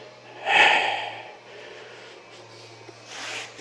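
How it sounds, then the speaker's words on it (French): An open-mouth exhale during a Pilates core exercise on TRX suspension straps: one strong, breathy rush of air near the mic, then quiet room tone with a softer breath at the end. "j'expire bouche ouverte"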